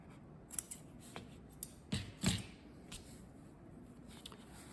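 Scissors snip the end of material for a homemade camera lens cover, a few quiet close cuts and crisp clicks spread over several seconds, the loudest pair near the middle, with no speech.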